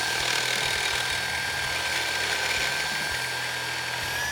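RIDGID GEN5X MEGAMax drill running in regular drill mode into a concrete block, a steady loud whining motor drone held without a break, close and alone.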